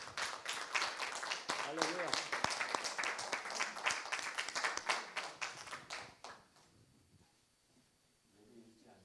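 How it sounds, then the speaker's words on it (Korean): A church congregation at a worship service bursts into loud, sustained applause for about six seconds, then fades to quiet, with speech mixed in near the start and end. "오늘 이 예배를 허락하신 우리 주님께 감사와 찬양과 영광의 박수 올려드립시다"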